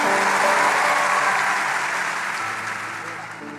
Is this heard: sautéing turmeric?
no